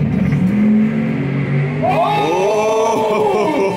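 Loud, roaring engines of seven-second drag race cars rev and surge, with the pitch rising steadily as the cars accelerate hard, close by.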